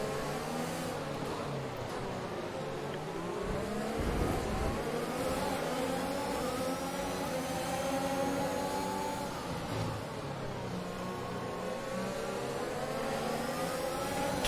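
Several race car engines in the F1 2021 video game whine together in a steady, continuous drone, their pitch rising and falling as the cars accelerate and lift through a race.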